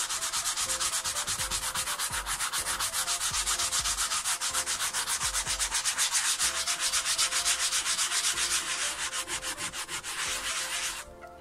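An acetone-soaked sponge scrubs the fibre board of a car headliner panel, a continuous rapid back-and-forth rasping rub, loud and close, keeping an even rhythm for several seconds before stopping, no talking.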